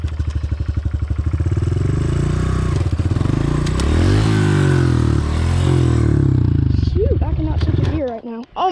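A 250 motorcycle ridden by a learner still getting used to the clutch, its engine droning loud and close with rising and falling revs as gears are fought, a voice cutting in near the end.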